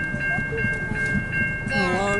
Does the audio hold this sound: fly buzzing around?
no